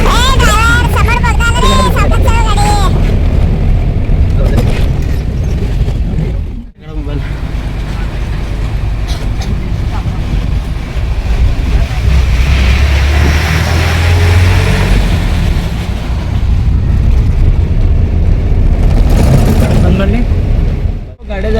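A car drives fast along a forest road with a steady, loud engine and road roar close by, while a voice talks over it.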